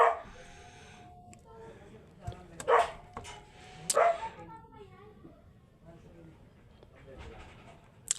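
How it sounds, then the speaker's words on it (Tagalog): A household dog gives a few short, sharp barks and yips in quick bursts at moderate distance, with low background noise between them. "Ingay ng aso namin, pasensya na po"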